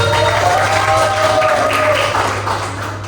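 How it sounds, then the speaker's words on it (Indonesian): An audience applauds during a public speaking and presentation class, a dense and steady clatter of clapping heard close, with a faint voice or tone passing beneath it. "Tepuk tangan dulu."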